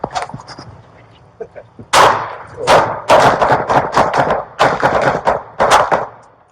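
Gunfire exchanged between police and a suspect who shot at a neighbour, heard as a rapid series of loud, sharp booming shots in close succession, some overlapping, with a few quieter sounds before the volley starts.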